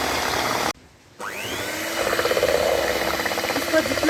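An electric beater whips room-temperature cream into butter for homemade desi ghee. The motor whirs loudly, cuts out briefly, then spins back up with a rising whine and keeps buzzing steadily.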